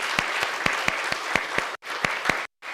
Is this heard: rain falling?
no